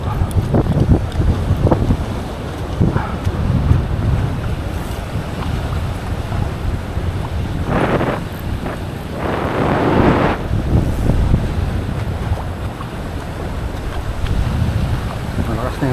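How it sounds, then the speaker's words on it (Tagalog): Strong gusty wind buffets the microphone at a sea shore during shore casting, rumbling and surging in waves with brief hissing swells, under a man's occasional speech. "Ito yung sinasabi ko, malakas na yung hangin mga master."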